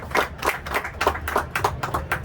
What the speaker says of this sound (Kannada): ಅವರಿಗೆ ನಮ್ಮೆಲ್ಲರ ಅಭಿನಂದನಾ ಪೂರ್ವಕ ಗೌರವ ಚಪ್ಪಾಳೆ ಬರಲಿ.